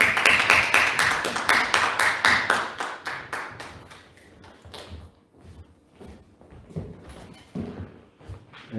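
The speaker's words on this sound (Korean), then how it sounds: "여기 나오실 때 박수로 같이 함께 환영하겠습니다" Audience clapping to welcome a pastor lecturing at a Korean church officers' training session, loud rhythmic claps that fade after about four seconds into scattered taps, footsteps and thumps.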